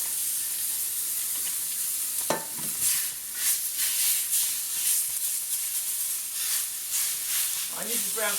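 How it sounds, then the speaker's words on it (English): Meat sautéing in a pan with its broth juices, a continuous sizzling hiss with bursts of spattering and occasional stirring scrapes, fairly close. "I'm going to saute this in the pan"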